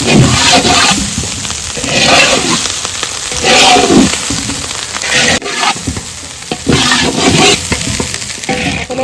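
Sweet rice being fried and stirred in ghee with carrots, beans, cashews and raisins for a birthday meal, a steady close sizzle broken by repeated scraping stirs throughout.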